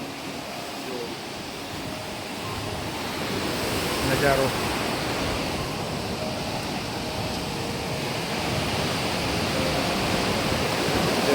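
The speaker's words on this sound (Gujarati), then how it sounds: "તમે જોઈ શકો છો પાણી પેલી બાજુ કેટલું ફોર્સમાં જઈ રહ્યું છે." Water surges forcefully through a dam canal junction, giving a loud continuous roar that swells slightly partway through, with a brief voice speaking over it.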